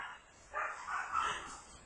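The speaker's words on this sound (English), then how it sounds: "the dogs are starting to go off again" Dogs barking on a sheep farm in a short run of rough, mid-loud bursts, about three close together, heard at some distance with no talk over them.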